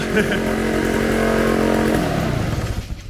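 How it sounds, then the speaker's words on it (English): A carbureted engine on a bought project vehicle runs a little high at idle, giving a steady, close buzzing drone that drops and sputters unevenly toward the end. "it's idling a little bit high. I think this carb is a little bit snorked."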